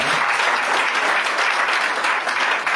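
Church congregation applauding during a worship service, a dense, steady wash of clapping from many hands that fills the whole stretch without pause.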